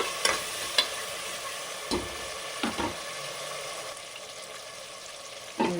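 Chopped tomatoes fry over onions in a pan for drumstick pulao, a close sizzle broken by a few sharp scrapes and knocks of a spoon stirring, with no talking.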